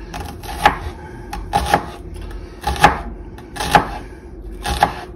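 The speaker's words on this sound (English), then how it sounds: "Chopping can happen at this stage to get to the minced" Knife chopping mushrooms on a board, about eight sharp, distinct thuds in loose pairs and singles, close and fairly loud with quiet gaps between.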